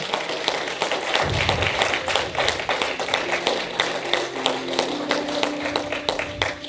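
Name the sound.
congregation clapping in church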